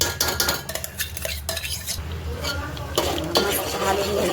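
Ground masala paste for a spicy mutton kaliya curry roasts in oil while a spoon stirs and scrapes the pan, with soft sizzling and quick metallic clinks at close range.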